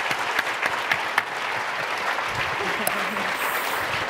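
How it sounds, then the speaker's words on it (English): A talk audience in Toronto applauds the speakers after a discussion on feminism, with sustained dense clapping, a few louder claps standing out, and some faint voices underneath. "We have one more round of applause for Roxane Gay"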